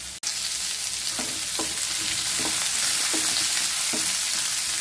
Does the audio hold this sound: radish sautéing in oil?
yes